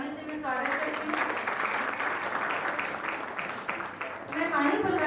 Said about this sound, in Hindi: इनका जोरदार तालियों से मैं स्वागत करती हूँ।